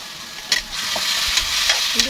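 Banana blossom stir-fried over high heat in a hot pan, a loud continuous sizzle broken by several sharp scraping stirs, heard close up with no talking.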